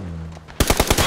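Rapid automatic gunfire rings out in the PUBG video game after a brief quiet moment, a burst of about five or six loud, sharp shots in quick succession.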